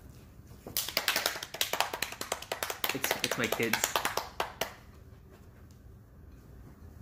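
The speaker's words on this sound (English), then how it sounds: "Cheer, clap, clap." Two young children clapping as a small home audience, a fast run of sharp close claps lasting a few seconds before stopping, with people talking around them.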